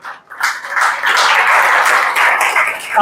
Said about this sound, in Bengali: মুকেশের জন্য জোরে একটা হাততালি দাও